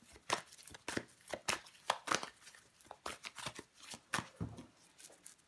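Tarot cards being shuffled by hand, a series of crisp riffling and slapping bursts in an irregular rhythm, close and fairly quiet with no talking.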